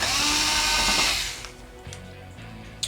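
A power drill whirs loudly as it backs screws out of the rear cover of a TCL 55-inch Roku TV, model 55S401, then spins down and falls to quieter handling noises.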